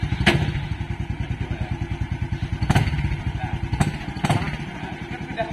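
Engine of a home-built motorized three-wheeled cart chugging steadily at idle, a close, rapid rhythmic putter with a few sharp clanks and thuds breaking in over it.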